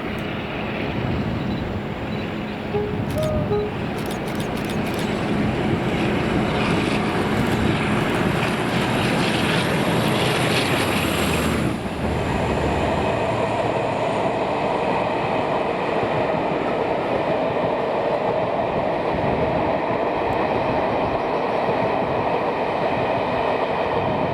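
A train climbs the gradient out of Kilmarnock in Scotland, its engine a loud, steady roar that builds and holds close by for the whole stretch, with a shift in tone midway as the wagons pass.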